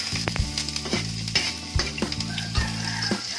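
Chopped garlic sizzles in hot oil in a pan, with a steady frying hiss broken by rhythmic scrapes and clinks of a spatula stirring it every second or so, close and fairly quiet.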